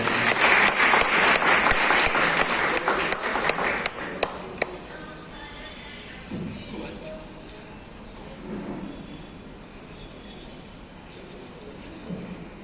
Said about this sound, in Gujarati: આપની રચનાઓ આપણે એમને તાળીઓથી વધાવી લઈએ.